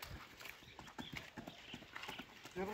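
A young ambling horse, a yearling pacer, clops along in a quick, even rhythm of hoofbeats, close and fairly quiet, with no voices.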